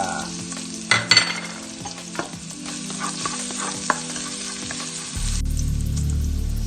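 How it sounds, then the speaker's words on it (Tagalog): Garlic and ginger sautéing in a hot pan, a continuous close sizzle punctuated by a few sharp spatula clanks, swelling into a louder, denser frying roar near the end. "Manggigisa na naman tayo. Bawang. Luya."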